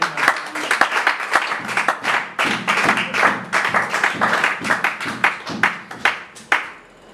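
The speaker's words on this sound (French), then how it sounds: "Acclamons le Seigneur." A church congregation claps and applauds loudly and steadily for several seconds, a dense, close burst of hands with shouts mixed in before it tapers off.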